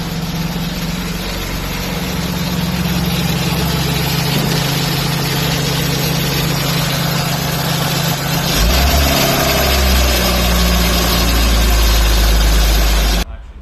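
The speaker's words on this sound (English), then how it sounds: "The engine starts and runs." A BMW E36 street car engine runs and idles steadily with a deep rumbling drone, loud and close throughout with a slight shift in tone partway through.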